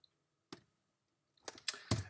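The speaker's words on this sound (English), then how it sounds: "Enter on the keyboard" Keys struck on a computer keyboard while editing in Photoshop: one isolated click, then after a pause a quick cluster of sharp, close taps ending in a firmer press, with no talking.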